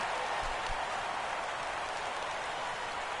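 A stadium crowd of over 37,000 roars in MLB The Show 17 as the Yankees face their final strike; a dense, steady wash of cheering and applause throughout, with no clear talk.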